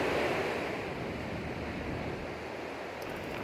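Steady roar of ocean surf washing onto the shore along the Torrevieja coastline, with wind rushing across the microphone.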